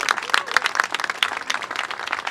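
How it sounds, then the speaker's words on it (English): A crowd at an outdoor plaza event in Union Square applauds the newly introduced vice president and commissioner, with brisk, fairly close clapping that holds steady throughout. "Let's give them a big round of applause"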